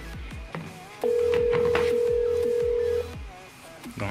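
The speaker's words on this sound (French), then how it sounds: "Donc, dès que je lance, voilà, ça sonne ici." Grandstream DP750 DECT phone ringing, one steady electronic tone lasting about two seconds, close and clear over faint background noise.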